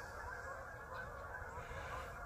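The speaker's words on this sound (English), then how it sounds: "So, wow, there's a ton of geese." Hundreds of geese honking together outdoors on a cold day, a dense, continuous chorus of overlapping calls heard faint and at a distance.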